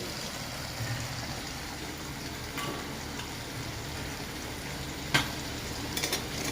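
Masala for a prawn masala fry frying in a pan, giving a continuous low sizzle with faint stirring scrapes and a few sharper clinks near the end, close and without talk.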